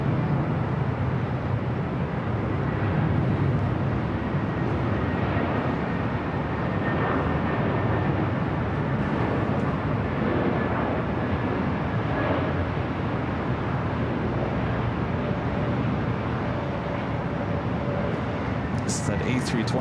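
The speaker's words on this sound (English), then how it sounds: "This is that A320 neo with Spirit coming in from Charlotte." A Spirit Airbus A320neo arriving from Charlotte to land at LAX, a steady broadband jet roar that holds throughout, with someone talking over it.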